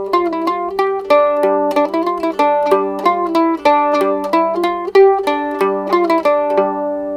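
A mandolin improvises a medieval-style melody over a drone, with quick plucked notes in a steady flowing rhythm, close, bright and alone with no talk.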